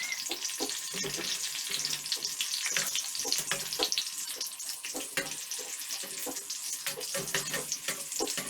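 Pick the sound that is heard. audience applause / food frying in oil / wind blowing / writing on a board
food frying in oil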